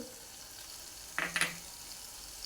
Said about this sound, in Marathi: वाटण चांगलं तेल सुटेपर्यंत आपण परतून घेऊया